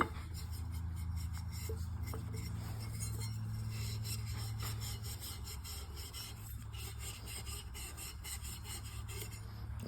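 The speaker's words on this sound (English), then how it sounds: "We'll start with the steel wool to really get the bulk of it off." Steel wool scrubs a motorcycle exhaust in a continuous, fairly quiet abrasive rasp, rubbing steadily back and forth with no pauses and no voices.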